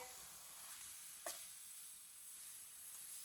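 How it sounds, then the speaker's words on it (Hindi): Grated carrots for gajar halwa stir-roasting in a pan over fairly high heat, a faint, steady sizzle with one brief spoon scrape. "ऐसे ही चम्मच चलाते हुए इसे भूनना।"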